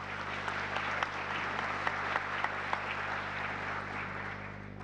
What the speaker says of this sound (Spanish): un aplauso de bienvenida a nuestros panelistas